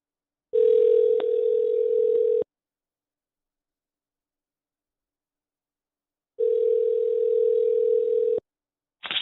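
An outgoing telephone call placed during a live radio call-in show, with two long steady ringback tones separated by silence, loud and clean, and a third tone just beginning at the end.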